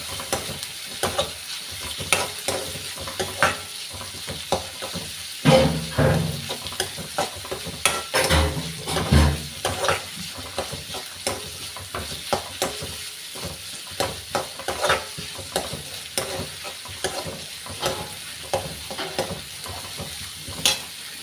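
Crushed garlic, ginger and shallots sautéing in a pan for chicken varattiyathu, a loud continuous sizzle with repeated scraping and stirring strokes, a few sharper clanks of the utensil against the pan in the middle.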